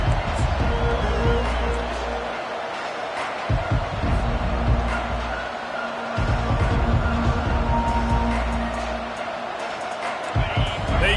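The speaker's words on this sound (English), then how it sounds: "They challenge this crowd to bring the energy, and I'd say they're doing that." A stadium crowd roars and cheers steadily at an NCAA 25 college football video game, under a play-by-play commentator's voice.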